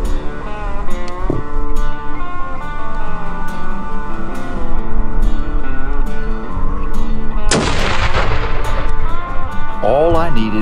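A rifle shot during a blackbuck hunt in West Texas, one sharp loud crack that rings out over continuous background noise, close by.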